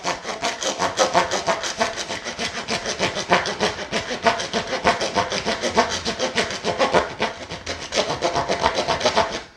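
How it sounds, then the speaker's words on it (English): Hand saw cutting through PVC pipe: fast, rhythmic rasping strokes, close and loud, repeating steadily back and forth for nearly ten seconds with brief dips between strokes. "Go real nice and slow with the saw at first."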